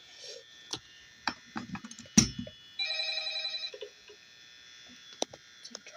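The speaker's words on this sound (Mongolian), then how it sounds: "утас дуурж байна" A telephone rings in a quiet room, a single brief electronic ring burst standing out between scattered soft clicks and taps close by.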